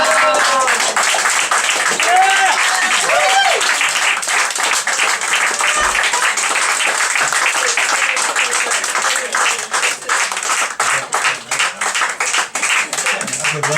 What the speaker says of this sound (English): Let's hear a warm applause for Pinto.